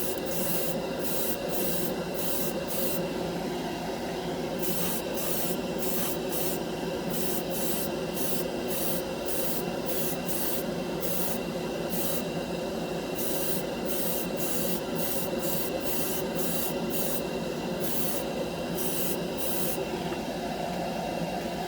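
Airbrush spraying Mr. Color lacquer paint onto a scale model part, a steady close hiss running continuously with repeated short bursts of brighter airflow as passes are made, no voices.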